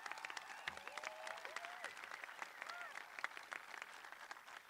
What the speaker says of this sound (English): If we give our youth drum group here a big round of applause for being here.